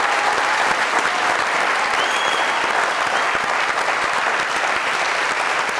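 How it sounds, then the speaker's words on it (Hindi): Loud, sustained applause from a studio audience on a comedy talk show greets a singer, a thick continuous wash of clapping with a faint crowd murmur underneath, holding steady for about six seconds. "जरा एक जोरदार तालियां"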